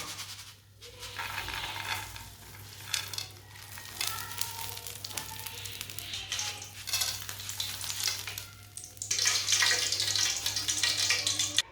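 Dry, crisp fried lentils for a salty snack rattle and scrape as they are stirred in a pan, a steady rustling clatter that grows louder and brighter toward the end.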